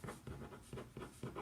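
A red pen writes across the top of a sheet of paper in quick, rhythmic scratching strokes, about six distinct pulses, close-up and quiet with no voices.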